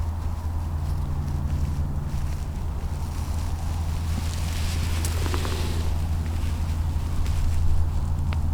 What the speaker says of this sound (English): But this wind is absolutely awful.